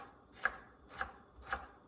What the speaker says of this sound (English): we're just going to cut it up in some small chunks